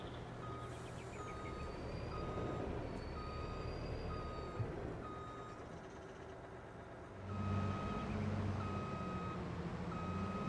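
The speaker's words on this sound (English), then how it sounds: "Need to move the truck out of the way." A farm truck reverses near a silo and gate, its backup alarm beeping steadily at a regular rhythm over a low engine rumble, with a louder engine surge late in the sequence.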